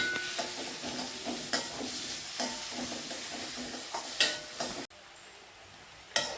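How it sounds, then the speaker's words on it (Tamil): Onions sautéing with salt powder in a pan, a steady close sizzle broken by repeated scraping stir strokes of a spoon against the pan, with a short drop in the sound near the end. "உப்பு தூள் வதங்கட்டும்."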